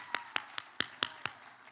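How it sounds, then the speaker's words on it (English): Six evenly spaced claps ring out at an academic awards ceremony, sharp and fairly close, each decaying quickly against a quiet room with no voices. "One more round of applause for that, everybody."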